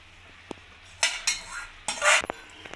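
A spoon scrapes and clinks against a pan while vegetable biryani rice is stirred, in a few sharp bursts of scraping over a quiet background with a faint low hum and no speech.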